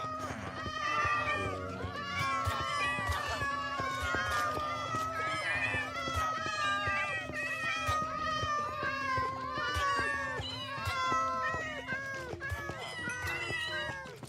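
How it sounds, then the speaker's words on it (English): Minecraft cats meow over and over, high and wavering, several overlapping at close range in a dense, continuous chorus with a faint steady background hum. "it's very difficult to build with cats and villagers around"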